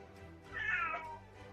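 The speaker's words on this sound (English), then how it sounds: "The cat's upset about it" A cat lets out a single drawn-out, upset meow that swells and then fades over quiet background hum, with nobody speaking.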